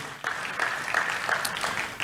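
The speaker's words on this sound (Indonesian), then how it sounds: "Tepuk tangan yang meriah buat Tuhan Yesus." Steady applause from a church congregation fills the whole moment, a dense, even wash of clapping at moderate distance.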